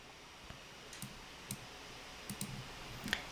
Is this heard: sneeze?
no